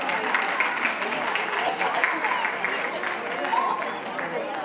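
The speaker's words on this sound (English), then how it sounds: "Give her a big round of applause." Continuous applause from an audience at a Telugu community Ugadi celebration in New Jersey, a dense, even wash of clapping at moderate distance with crowd chatter running underneath.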